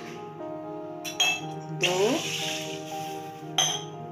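Glasses of water and milk are poured into a cooking pot for Lucknow-style moong dal and mutton, with a few glass clinks and a splashing pour under a person's voice.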